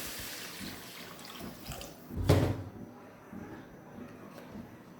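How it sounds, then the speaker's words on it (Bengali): Water is poured into a cooking pot of fried spice paste and potatoes for a thin hilsa and bitter gourd curry, one short rushing splash in the middle against a low kitchen background. "দিয়ে দেবো আমি জলের পানি।"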